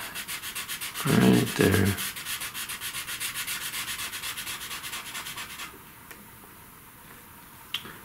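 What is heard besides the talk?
sharpening the edge of a pastel stick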